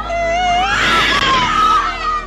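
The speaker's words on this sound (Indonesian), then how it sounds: "ditambah tangisan anak kecil." A small child cries in high, wavering wails amid the screams of passengers aboard a ship, with a loud crowd clamour underneath.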